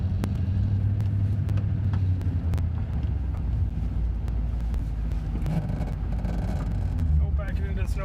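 Truck engine idling and rumbling while plowing snow in a forest driveway, a steady low drone close by with a few sharp knocks and scrapes, and brief talk near the end.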